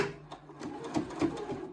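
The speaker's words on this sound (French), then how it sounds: "là, je peux coudre, hein." A Brother FS40s sewing machine runs briefly indoors, giving a soft mechanical whir with light rhythmic ticking that swells slightly near the end, nearby and fairly quiet with no talk.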